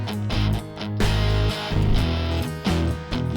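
Music is pushed through an audio clipper plugin with its gain cranked, giving a dense, crunchy, saturated sound with thumping low beats and flattened peaks throughout.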